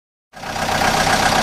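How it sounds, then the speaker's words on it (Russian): A heavy engine starts up and runs at a steady, rumbling idle, loud and close, with a rough mechanical texture. "Экскаватор."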